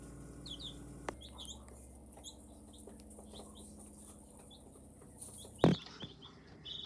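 New baby hens and roosters at a homestead coop give soft, scattered clucks and chirps, with a sudden close flurry of wing flapping and scuffling partway through.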